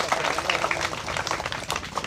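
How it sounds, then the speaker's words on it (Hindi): Applause from an audience welcoming a prize winner at a school prize distribution, dense clapping spread evenly across the whole stretch with no voice over it. "एक बार ज़ोरदार तालियों से"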